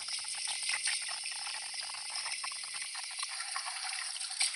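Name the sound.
water rinsing out a foam cannon bottle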